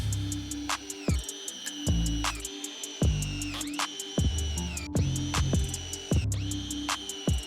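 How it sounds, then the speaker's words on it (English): A power drill driving screws into the legs of a sturdy wooden range table, with repeated loud whirring bursts that rise and stop in quick succession, close by, with no voices. "we're gonna send a couple screws in on each one."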